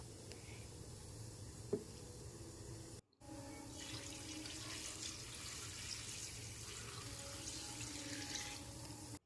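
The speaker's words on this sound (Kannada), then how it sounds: "ಇದಾದಮೇಲೆ ಇದಕ್ಕೆ ನೀರು ಹಾಕಬೇಕು" Water pours steadily into a pot of sambar with coriander, spinach, amaranth and other leafy greens, a close, continuous splashing gush like a running tap, briefly cut off and then resuming.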